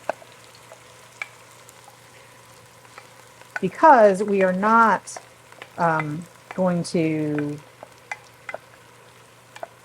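Finely minced aromatics frying in a pan for penne alla vodka while being stirred constantly; a steady low sizzle runs throughout, joined by louder bursts of scraping and stirring in the middle, with a person speaking briefly over it.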